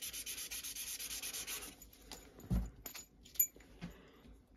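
Steady scraping and rubbing while cleaning the brake caliper pins of a Mini JCW F56 for a couple of seconds, then a few scattered clicks and light knocks.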